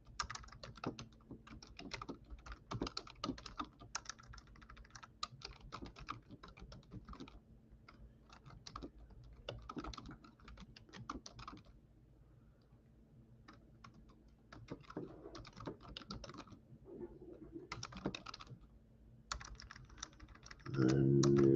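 Close, quiet typing on a computer keyboard, rapid bursts of key clicks broken by brief pauses and continuing for about twenty seconds, with no talking.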